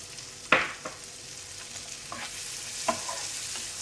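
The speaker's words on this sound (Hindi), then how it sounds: "Once the whole spices turn aromatic, I will add the roughly chopped onion." Roughly chopped onion is stirred in a hot pan of oil with aromatic whole spices, giving a soft steady sizzle broken by a few scraping spoon strokes and clinks close by.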